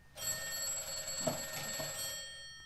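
A steady electronic alarm ringing continuously at moderate volume, slightly distant, with faint background rustling underneath.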